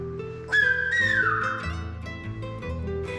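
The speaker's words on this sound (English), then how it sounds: "let's listen to the whistled version of the word papa." The word papa is whistled in Silbo Gomero, the whistled language of La Gomera in the Canary Islands. One clear, shrill whistle rises and then glides down over a low background.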